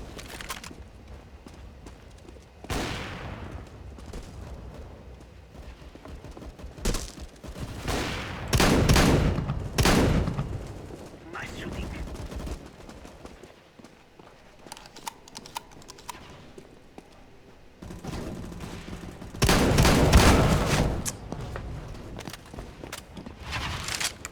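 Gunfire in the Counter-Strike: Global Offensive video game: rapid bursts and volleys of shots recur throughout, some loud and dense, with quieter clicking and clattering between the bursts.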